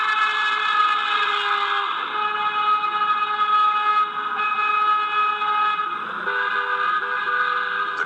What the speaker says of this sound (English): every single one of them was driving by honking the horn